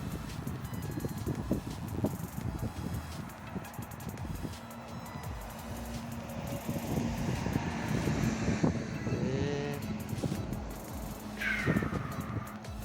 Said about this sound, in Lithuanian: vėjas užeina, daug debesų pučia